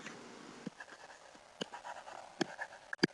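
A marker or chalk scratches across a board in short, intermittent strokes with small taps between them. The sound is faint and close, with no one talking.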